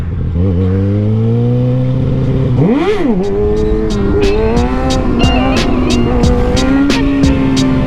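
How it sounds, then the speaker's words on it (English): Motorcycle doing a wheelie across a bridge: a loud, close engine drones steadily, then revs up sharply and holds high with a rising whine as the bike rides on, with rhythmic ticking under the roar. "Wheelie on the bridge."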